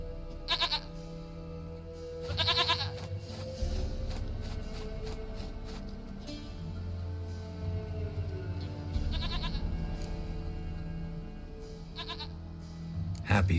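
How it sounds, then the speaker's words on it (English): Goat in The Witcher 3, with several short bleats at intervals over steady game ambience, each call moderately loud and clear. "Goat of mine, dearest, sweetest goat."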